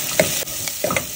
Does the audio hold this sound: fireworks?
no